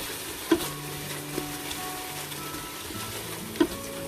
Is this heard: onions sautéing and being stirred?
yes